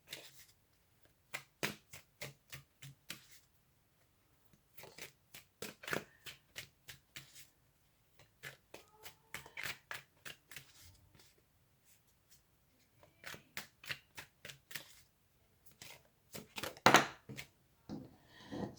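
Tarot cards being shuffled by hand, close and quiet, in repeated bursts of crisp riffling flutters separated by short pauses.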